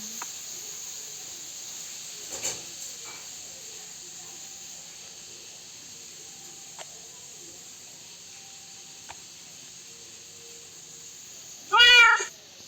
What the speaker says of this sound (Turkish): Bunu kedimizi besleyelim. Aa kedi.